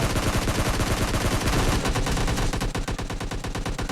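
Rapid automatic gunfire from PUBG Lite rattles in a dense burst of shots, loud and continuous, thinning into spaced single shots near the end.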